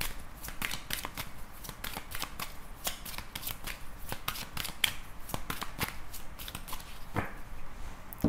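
Tarot cards being shuffled by hand, a steady run of rapid close riffling flicks and soft slaps, continuous and fairly quiet, with no talk.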